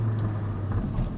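A Hyundai i20N with a manual gearbox idles in a steady low hum, a brief rev swelling near the end of the short, close-up burst.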